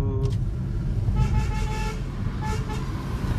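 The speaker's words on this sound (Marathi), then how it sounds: "पुढे गे आणि हॉर्न दे त्याला" Car horns honk over continuous road traffic and engine rumble in Sangamner, India, a few toots rising above the busy street noise.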